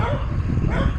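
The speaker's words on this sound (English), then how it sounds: "Just a bit of barking." Dog barking at a passing motorcyclist on a rural road, short bow-wow yaps and whimpery yips sounding fairly close over steady engine and road rumble.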